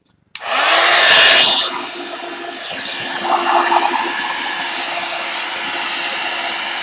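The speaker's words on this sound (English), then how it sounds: "I'm drying it off camera to keep the heat away from the table." Heat embossing dryer switching on abruptly and blowing hard while drying ink on craft paper, a loud steady roaring whoosh that dips then holds at a slightly lower level, close and alone.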